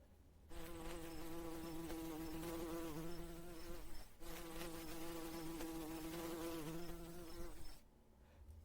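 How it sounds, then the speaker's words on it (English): Insects buzz continuously at close range, a droning, wavering whine like flies, bees and mosquitoes, in two long stretches with a brief break between them and near silence at each end. "you hear the buzz of bees, of flies, of mosquitoes"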